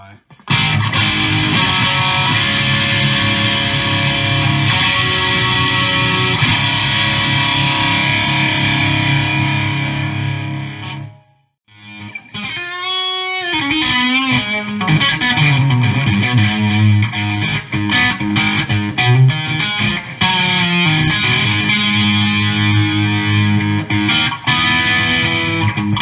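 Distorted electric guitar through a Fractal AX8 Friedman brown eye amp model, loud, dense riffing and sustained chords with a brief pause midway, close and continuous.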